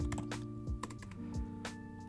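Quiet, close clicks of keys being typed on a computer keyboard while entering a password, a quick irregular run of light taps with a few short pauses.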